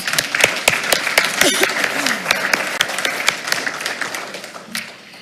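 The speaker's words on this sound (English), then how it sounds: "let's give Alexa one more round of applause." At a school board meeting an audience gives Alexa another round of applause, with loud, distinct claps that are fairly close, tapering toward the end, and speech mixed in.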